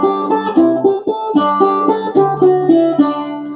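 A four-string cigar box guitar picks out a song, with clear, bright plucked notes in a steady repeating pattern, played alone and close.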